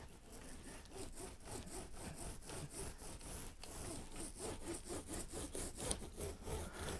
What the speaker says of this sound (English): wet out my roller, then distribute some more epoxy onto my work